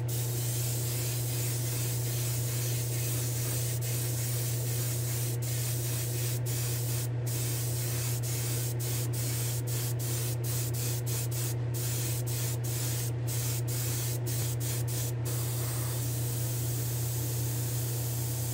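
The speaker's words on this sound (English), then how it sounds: "we'll go to the spray booth. We'll do a gloss white and a clear coat" A steady, loud hiss of gloss white and clear coat spray painting on a diecast model car runs throughout, over a constant low hum, with occasional brief clicks and no speech.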